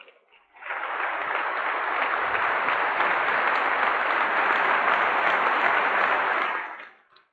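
Sustained applause from a large audience at a farewell, rising in quickly, holding steady and loud for several seconds, then cutting off.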